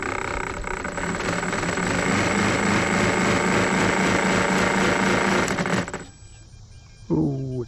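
The electric motor of a crashed Carbon Z Cessna 150T RC model plane runs with a loud, rough whirring buzz for about six seconds, then stops, followed by a short voice.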